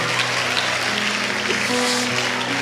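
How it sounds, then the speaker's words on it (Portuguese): Audience applause at a church sermon, a continuous dense wash of clapping, loud, with faint sustained keyboard tones beneath. "Boa, pode aplaudir."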